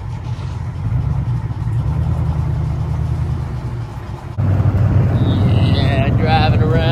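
A car rides along a bumpy road, its steady engine drone and cabin rumble running throughout and growing louder and rougher partway through, with voices talking inside the vehicle.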